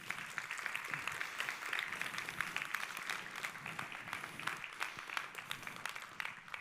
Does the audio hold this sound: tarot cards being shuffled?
no